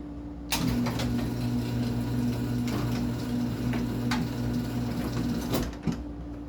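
A LiftMaster 1245 garage door opener drives a small mini door upward with a steady, loud motor drone and a humming mechanical whir that runs evenly for several seconds before settling.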